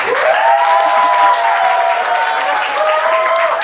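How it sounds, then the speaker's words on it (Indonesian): Students in a chemistry class on acid-base indicators clap loudly and steadily together, with a voice sounding over the applause. "Iya, benar sekali ya, tepuk tangan"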